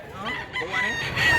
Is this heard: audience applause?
no